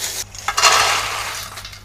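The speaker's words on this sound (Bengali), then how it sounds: "বালিগুলো নিচে ফেলাই দিছি" Hot roasting sand poured out after roasting peanuts, a loud, close rush of gritty hissing that swells quickly and stays steady for a moment before thinning out.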